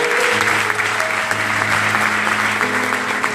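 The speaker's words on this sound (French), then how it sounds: "On va acclamer le Seigneur encore une fois." A church congregation applauds to acclaim the Lord, a dense, loud burst of clapping from many hands that lasts a few seconds, with a faint hum of voices beneath.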